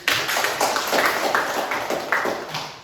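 A classroom group claps together for itself after a scripture reading during a teaching session, with several sharp, uneven claps close by over a few seconds.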